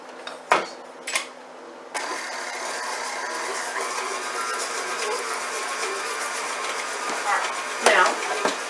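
An electric mixer creams butter with white and brown sugar for cookie dough, a steady mechanical whir running continuously and close by, broken by a few clattering knocks of the bowl and utensils at the start and end.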